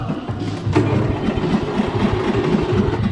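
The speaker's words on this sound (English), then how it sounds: "Here's my a little lawn tractor. See if it'll start up." A small lawn tractor engine sputters and turns over, settling into a rough, rapid chugging idle close by.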